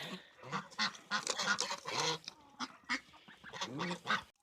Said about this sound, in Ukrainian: ось так потрішки кидаю качкам гусям, і вони собі перебирають.